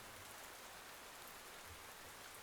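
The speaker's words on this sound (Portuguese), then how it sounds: "Ao fundo desta narração você ouvirá o barulho da chuva" Steady rain falls continuously, a dense even hiss of drops on surfaces with no pauses, soft and unbroken throughout, with no voices.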